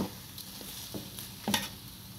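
Boua cooks in a pan and a utensil turns it over, giving a handful of sharp scraping clacks over a low, steady sizzle, close and clear, with no voices.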